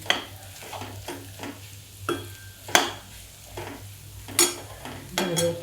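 Ivy gourd (tondli) stir-fried in a pan: a steady sizzle under repeated scraping stirs of a spatula against the metal, loud and close, at an uneven rhythm.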